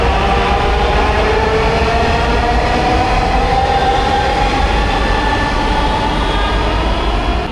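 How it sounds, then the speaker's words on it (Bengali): A Dhaka metro train in motion, heard from inside the carriage: a loud, steady rumble with rail noise and a whining hum that runs throughout, with no talk. "তো ফার্স্ট টাইম মেট্রোতে উঠতেছি।"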